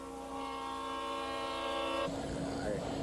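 A train horn sounds as a train passes by, a sustained multi-tone blast holding for about two seconds before cutting off into rushing rail noise, heard at moderate distance.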